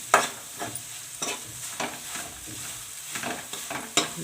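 Mawa being roasted in a pan for Holi gujiya, with repeated spoon scrapes and taps at an uneven rhythm over a low sizzle, close and fairly quiet, with no talking.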